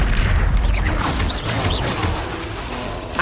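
A Confringo fire spell exploding in the game Hogwarts Legacy: a loud, continuous booming blast with crackling bursts and a deep rumble throughout, close and dominant.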